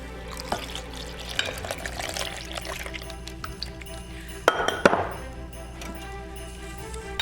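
Two cups of milk are poured into a French toast casserole mixture of eggs, giving a soft, steady liquid stream with a brief louder splash near the end, heard close up over a low background hum.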